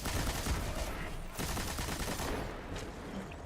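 Video game turrets fire loud, dense, rapid bursts of gunfire without letup, with a brief dip partway through.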